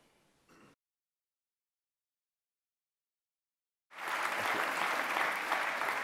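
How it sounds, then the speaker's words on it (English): Audience applause at a television industry event: a brief murmur cuts to silence, then loud, dense clapping from a large crowd bursts in and continues steadily. "they're applauding that final line"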